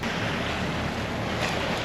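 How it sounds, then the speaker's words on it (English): Massive ocean waves crash in the distance off the Outer Banks near Ocracoke, heard from a sailboat as a dense, unbroken roar of surf mixed with wind buffeting the microphone, loud and constant throughout. "There's some massive waves crashing in the distance"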